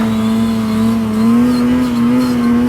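The turbocharged 850 engine of a 2021 Ski-Doo Summit Expert snowmobile lets out a loud, steady high-pitched squeal over a constant droning roar, close up and uninterrupted.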